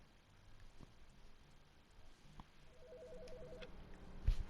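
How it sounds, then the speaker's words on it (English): Telephone ringing inside The Stanley Parable video game, a faint repeating electronic ring pattern rising softly over quiet room tone, ending with a brief thump. "Another phone call?"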